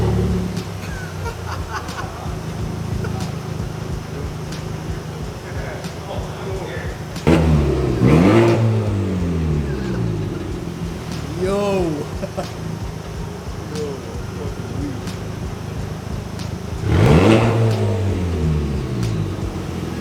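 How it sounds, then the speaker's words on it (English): A Honda car engine revving with turbo spool during an exhaust install, two sharp rising revs with whistling spool and settling whine over a steady idle, heard close by. "the turbo spool sounds crazy"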